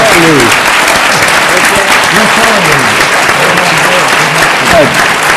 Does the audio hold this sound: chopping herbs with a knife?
no